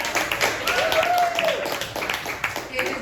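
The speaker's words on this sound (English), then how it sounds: "Let's give him another round of applause." Audience applause for an author at his first book launch, a modest round of clapping from a small crowd with voices and cheers mixed in, fairly close and continuous.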